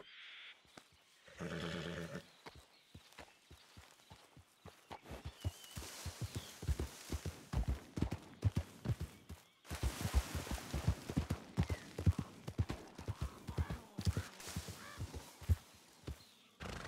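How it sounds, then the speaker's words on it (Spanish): A horse in a ranch video game gives a whinny near the start, followed by steady hoofbeats that clip-clop rhythmically and grow louder and denser, with no voices. "Lo de allí a la izquierda sí que es un caballo."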